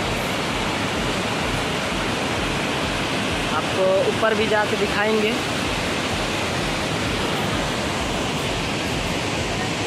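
Rushing water at Dassam Falls in Khunti, Jharkhand, roars as a steady broadband wash throughout, loud and close, while someone talks briefly over it partway through.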